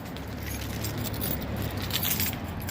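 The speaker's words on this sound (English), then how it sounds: "Get our keys out." A bunch of truck keys jangles and clinks continuously up close, a busy metallic rattle with no talking, just after work on a Duramax LBZ fuel filter.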